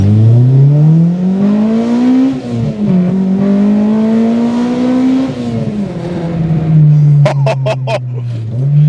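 An Integra Type S Honda VTEC engine revs loudly and close, its pitch climbing and falling through repeated pulls, ending with a short burst of crackling pops.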